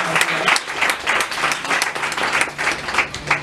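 A church congregation applauding at a worship service, with loud, dense, continuous clapping that keeps a steady rhythm throughout; voices are faintly mixed in.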